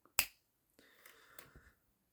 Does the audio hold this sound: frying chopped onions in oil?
no